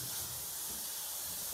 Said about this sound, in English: boiling hot water is shooting out from a pipe under the sink